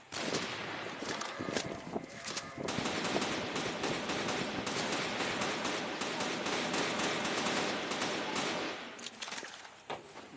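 AK-47 gunfire in the CrossFire mobile shooter game, a dense sustained stream of rapid automatic shots with battle noise, continuing loud and steady for most of the stretch before easing off near the end.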